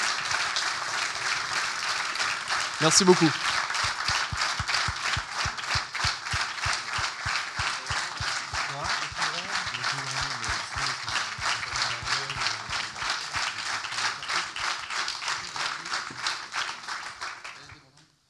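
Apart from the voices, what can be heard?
audience applause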